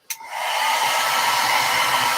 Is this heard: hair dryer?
yes